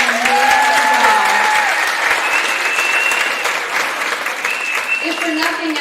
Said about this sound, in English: can you please join me in a round of applause for Jennifer and Rose?